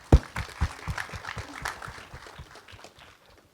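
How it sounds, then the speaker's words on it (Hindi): Audience applause at a Bollywood song launch event for the film Madaari, a burst of clapping that starts loud with sharp claps and then thins and fades out over a few seconds. "तालियां हो जाए"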